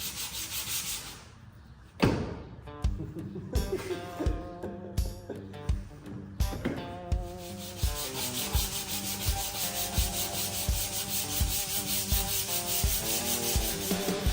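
Car body putty being smoothed and sanded by hand, rhythmic rubbing strokes repeating steadily after a brief pause, close and moderately loud.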